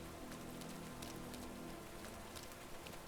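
Rain falls steadily on a street in the video game Parasite Mutant, a faint, even hiss of patter with scattered droplet ticks and a low background drone, no voices.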